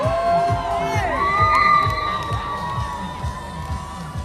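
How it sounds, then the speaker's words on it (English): Dartmouth High School cheering section at the 2018 New Bedford Half Marathon, a dense, close crowd of young voices shouting and whooping continuously, with a rhythmic low thumping underneath. "Nice cheering section there from the Dartmouth High School crowd."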